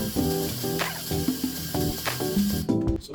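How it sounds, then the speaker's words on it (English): A heat gun blows a steady, close hiss while warming adhesive on an iPhone camera lens, with a continuous airflow roar and a harmonic whine running under it throughout. "You got to use the heat gun, and we got to warm this up to make the adhesive go away."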